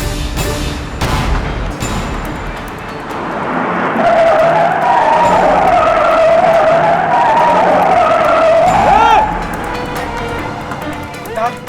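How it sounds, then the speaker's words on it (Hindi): A Scorpio's tyres skid and squeal through a sharp U-turn, a sustained screech of several seconds rising over engine roar and street noise. "स्कॉर्पियो ने आया नगर से यू टर्न मार लिया है"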